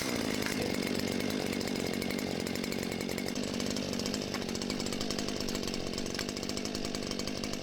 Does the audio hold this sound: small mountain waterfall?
no